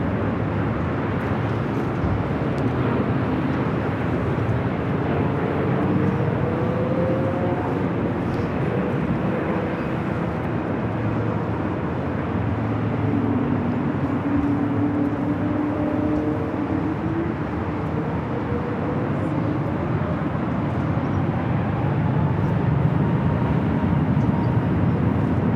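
A Delta airliner taking off from runway 24 left at LAX, a steady loud broadband jet roar with shifting engine whine sustained throughout, heard from a distance with no talk.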